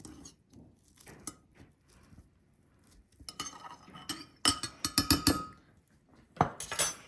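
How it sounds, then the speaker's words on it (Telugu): A utensil lightly mashes chickpeas in a bowl, giving sparse soft taps at first, then a cluster of sharper clinks against the bowl, close and fairly quiet. "బాగా మెత్తగా స్మాష్ అవసరం లేదు, కొంచెం స్మాష్ అవుతే సరిపోతుంది."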